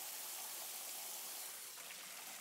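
Water sprays from a handheld shower wand on an Invacare supine tub, a soft steady hiss of fine flow, close but quiet and continuous, with no talking.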